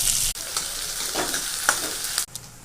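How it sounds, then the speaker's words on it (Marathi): Onion and garlic fry in a hot pan for a village-style wild greens bhaji, a steady close sizzle running throughout with a few scraping stirs and a short break near the end. "कांदा आपण कांदा लालसर फ्राय करायचा आहे"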